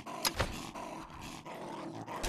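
A space dog creature in the VR game Gorn growls and roars in rough, guttural bursts, with a couple of sharp thumps early on and a muddy, rumbling snarl carrying through the rest at moderate volume.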